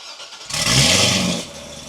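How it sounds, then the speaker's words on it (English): A Dodge Viper with its stock exhaust cold-starts: a short crank, then a sudden loud roar that holds for about a second and settles back, close by and with no talking. "Let's get a cold start though, really quick with that stock exhaust."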